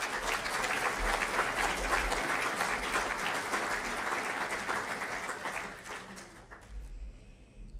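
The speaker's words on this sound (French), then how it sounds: "Vous pouvez l'applaudir." Sustained applause from an audience at an awards evening honoring a young show-jumping rider, dense steady clapping that fades near the end.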